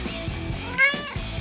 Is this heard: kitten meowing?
yes